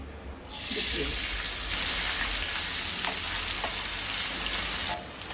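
Sliced onions go into hot oil with bay leaves and cinnamon, raising a loud, steady sizzle that starts abruptly and holds almost to the end, with a few faint clinks of stirring.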